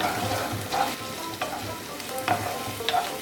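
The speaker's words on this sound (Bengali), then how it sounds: "এবারে এই মশলাটা আমি এর মধ্যে দিয়ে দিচ্ছি। মিডিয়াম টু লো ফ্লেমে আবারও 2 মিনিট আমি একটু কষে নেব।" Spice paste for a prawn-stuffed pointed gourd dish sizzles in a pan over a medium-low flame, with steady frying hiss and a few soft stirring scrapes recurring through the stretch; no one speaks.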